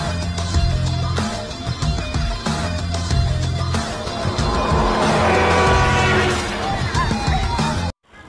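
Film scene from the Indonesian horror movie Alas Pati with a car and a truck in a near miss: loud, continuous engine roar and tire squeal under a dense music score, cutting off abruptly near the end.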